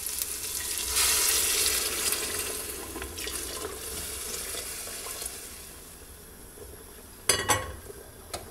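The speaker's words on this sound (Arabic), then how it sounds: "تو نضيفو لها الماء سخون" Hot water poured into sizzling tomato spaghetti sauce in a pan, giving a loud, steady hiss and bubbling that slowly fades, then a brief clatter near the end, with no talking.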